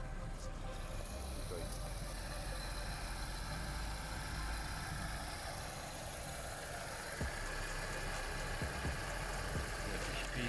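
Renault Megane III estate with a 1.6 petrol engine of 110 hp and 98,000 km on the clock, idling: a steady, even hum that stays constant throughout, heard up close with no talk over it.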